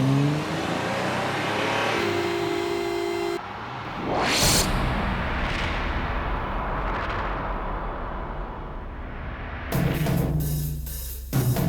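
Car engine revving and driving past, with loud surges and whooshes, a brief quieter stretch, and a final roaring burst of acceleration near the end.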